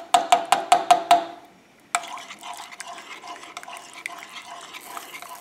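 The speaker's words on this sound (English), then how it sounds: "put that tomato paste left over on the spoon and rinse it off in there" A spoon clinks several times against the rim of a stew pot as leftover tomato paste is rinsed off, followed by a gentle splash and soft running, bubbling water nearby.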